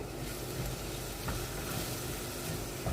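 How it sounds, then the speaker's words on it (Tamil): Ground paste is stirred into vegetables frying in a pan, producing a constant close sizzle with soft scraping from the stirring. "அந்த பேஸ்ட் அப்படியே ஆட் பண்ணுறேன். இதை ஒரு மிக்ஸ் பண்ணிவிட்டு,"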